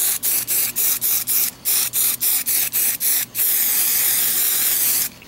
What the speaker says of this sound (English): So just kind of spray it a little bit.